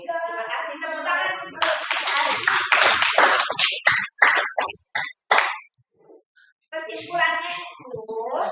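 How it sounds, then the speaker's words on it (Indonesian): Classroom applause during a university guidance-and-counselling lesson: a burst of dense clapping from the class that thins into a few scattered claps, with a voice talking just before and after. "Terima kasih, tepuk tangan."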